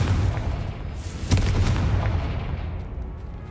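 A Confringo blasting spell goes off in Hogwarts Legacy as one sharp, booming explosion partway through, set against a constant low rumble of game background sound.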